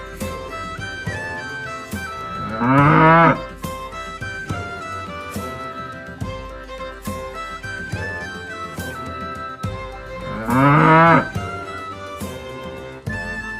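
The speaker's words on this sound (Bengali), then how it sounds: "গরু বাছুর দাঁড়িয়ে আছে" A cow moos twice, long rising and falling calls that stand out loudly over steady children's music, several seconds apart.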